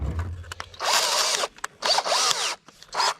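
A cordless power drill whirs in several short bursts, each lasting under a second, loud and close with brief pauses between them.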